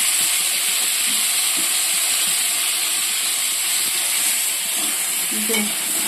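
Vegetables frying with turmeric and salt in a home kitchen pan give a steady, close hiss and sizzle throughout, with small stirring clinks now and then and no talk.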